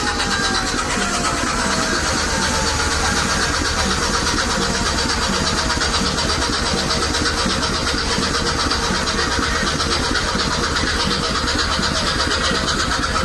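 Two passenger launch boats, the Surovi and a smaller launch, pull out side by side, their engines a loud, unbroken, close rumbling drone that never lets up.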